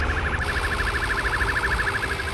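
A video game police car siren wails steadily in a fast, repeating warble, loud and close, over a constant low engine rumble.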